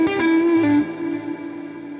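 An electric guitar played through two overdrives, delay, reverb and a compressor rings out as a sustained distorted note that bends down slightly, then decays with lingering echoing tails.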